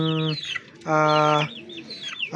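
Grizzled racing pigeon, a young bird from a pedigree line, gives throaty cooing calls in short repeated phrases, close and clear with brief pauses between them.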